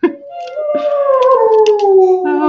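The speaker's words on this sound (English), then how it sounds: "we're trying to figure out if it's certain notes that the dog reacts to" A dog howls in one long, loud, close tone that slides slowly downward, reacting to musical notes, with a few brief clicks and knocks behind it.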